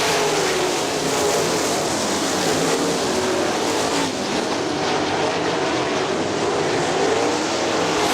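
Sprint cars circle Kokomo Speedway in a sustained, loud engine roar that swells and fades slightly as cars pass, a dense wall of racing noise throughout.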